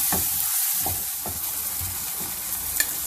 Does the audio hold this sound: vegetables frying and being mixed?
yes